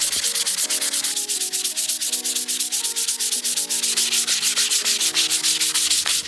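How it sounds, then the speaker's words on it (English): Hand sanding curved wooden legs of an old cabinet being turned into an armoire: close, steady back-and-forth rasping strokes in a fast, even rhythm, with soft music underneath. "So I just wanted to get the curves extra smooth by hand sanding these legs."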